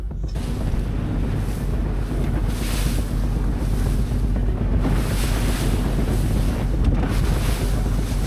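An inflatable boat's motor drones steadily on the open sea near Andenes, Norway, with heavy wind buffeting the microphone and waves splashing in periodic surges.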